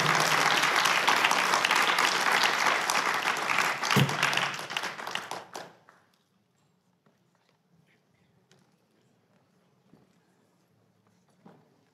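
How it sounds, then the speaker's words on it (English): Conference audience applauding panelists at an international law event, a full round of clapping for about five seconds that fades out abruptly, followed by near silence with faint footsteps and shuffling. "give a round of applause for these wonderful and charming ladies for being with us"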